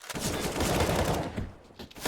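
Rapid bursts of gunfire in Counter-Strike: Global Offensive during a charity tournament match, loud overlapping shots packed densely for about two seconds before thinning out.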